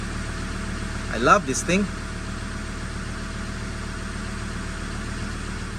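A Ford Ranger 3.2 engine idles steadily a few minutes after starting, a smooth, even drone while someone speaks briefly over it.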